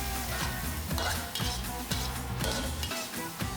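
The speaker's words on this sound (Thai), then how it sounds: "จากนั้นก็ผัดคลุกเคล้าทุกอย่างเข้ากันครับ" Steady sizzling as glass noodles are stir-fried in a wok, with rhythmic scraping and stirring strokes and occasional clinks of a utensil, no voices.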